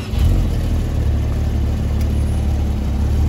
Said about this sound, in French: Et ce RS7, ça chante bien ça.